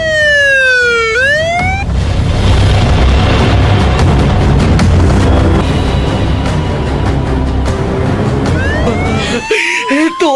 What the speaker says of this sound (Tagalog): nanay ambulansya nga niabot